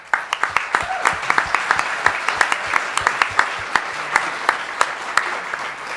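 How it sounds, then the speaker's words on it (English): A debate audience breaks into steady applause, the sharp claps dense and even throughout, with a few louder individual claps standing out near the front. "A round of applause before we even started the debate."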